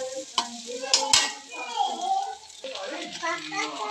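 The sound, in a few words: noodles and egg stirred in pan with chicken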